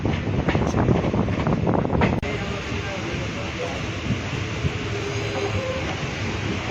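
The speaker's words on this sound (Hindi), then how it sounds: "फ्रेंड्स ट्रेन यहाँ दे नरसिंहगढ़ रेलवे स्टेशन के पहुँची गला।" Train pulling into Narsinghgarh railway station on the Sonpur–Balangir route, a loud continuous rumble of rolling railcars with wind buffeting, louder at first then settling into a steadier, softer roar.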